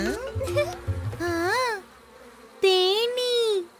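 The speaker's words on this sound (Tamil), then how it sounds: "இந்த தேனீக்கள் மழை வருதுன்னு நமக்கு தெரிவிக்குது." Bees buzzing in a Tamil cartoon, a wavering, rising and falling drone heard in two bursts, the second louder and closer, with some childlike voices at the start.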